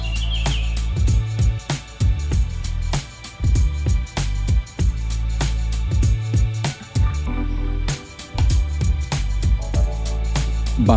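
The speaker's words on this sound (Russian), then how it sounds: "Только мы, тишина и пение невидимых птиц." Small birds call and chirp in a Vietnamese jungle near the Bahó waterfalls, scattered short notes over a steady hum with repeated low thumps and bursts of other noise.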